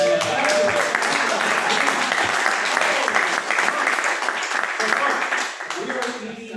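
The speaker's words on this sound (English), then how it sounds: "let's give a hearty round of applause for Michael McLaughlin" Hearty applause from a Rotary Club breakfast meeting crowd, a steady wash of many hands clapping at close range that thins and fades toward the end, with faint voices mixed underneath.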